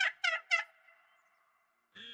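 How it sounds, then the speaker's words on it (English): Wild turkeys in the hunting game theHunter: Call of the Wild give three quick, bright gobbles in a row, loud and close, then a faint fading tail and another short call at the end. "Ooh, turkeys."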